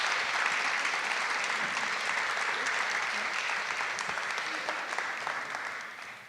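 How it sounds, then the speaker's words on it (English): Audience applause at the LEANLAB Education LaunchED Day 2018 event in Kansas City, a dense sustained clapping from a crowd that holds steady and then begins to taper off at the end. "So go ahead and take your applause."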